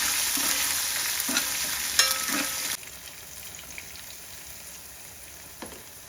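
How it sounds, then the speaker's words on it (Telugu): Green chilies and ginger pieces sizzle in a hot pan for a few seconds, with scraping stirs and utensil clinks, then the frying drops away to a faint, quiet hiss. "పచ్చిమిర్చి వేసి వీటిని గోలించాలి, ఇలాగా ఫ్రై చేయాలి"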